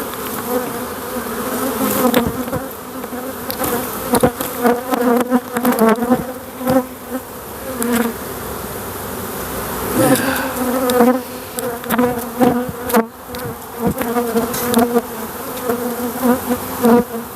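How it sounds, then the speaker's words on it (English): Swarm of honey bees buzzing on grassy ground after their queen was dropped, a dense fluctuating drone that swells and fades with close passes and occasional rustling, no voices. "Bunch of bees on the ground."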